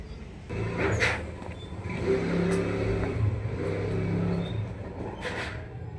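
A car's engine runs and revs steadily up close as it is pulled out of a garage at night, with the low rumble holding throughout and a few faint clicks and knocks above it.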